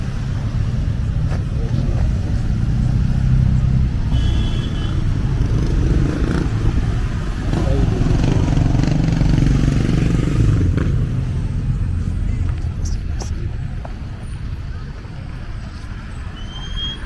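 Big motorcycles and other traffic rumble past on a street in Marcory, Abidjan, a steady roar of engines swelling and fading with clattering road noise, fairly near throughout.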